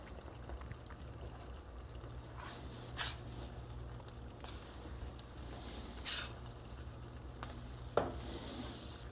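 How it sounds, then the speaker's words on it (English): A gluten-free gingerbread pancake sizzles steadily in a hot pan, a soft continuous frying hiss with a few light scrapes and taps as it is flipped, close and fairly quiet. "All right, I'm going to flip this one."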